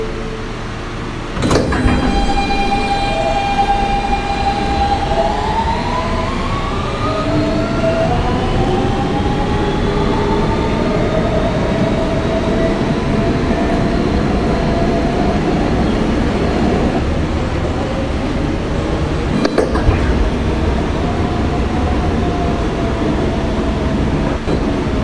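A Manhattan-bound R local subway train, a Kawasaki R160B Siemens car, hums and rumbles steadily from inside, its rising motor whine climbing as it accelerates, with two sharp clunks and a sustained tonal drone over the wheel noise.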